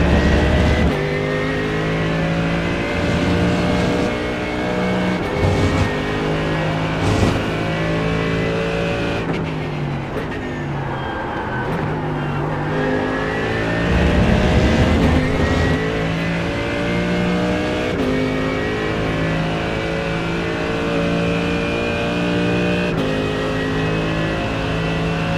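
Race car engines in the iRacing sim roar steadily and loudly throughout, with repeated gear shifts, revving and surges as cars run close together.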